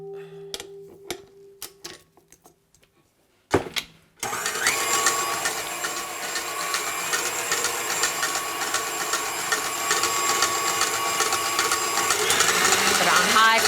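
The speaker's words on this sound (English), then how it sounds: "So we're gonna blend that a bit more" A kitchen blender on high churns a vegan chocolate mixture, a loud, steady motor whine that starts abruptly after a few quiet seconds of small knocks and clatter and then holds close and continuous.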